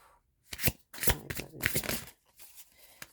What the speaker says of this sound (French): on va tirer une carte pour les Gémeaux